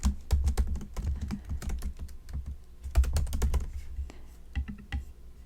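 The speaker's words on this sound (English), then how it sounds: "I'll type in happy birthday" Keys clack on a computer keyboard in quick, uneven bursts with short pauses, close and crisp, no voice over them.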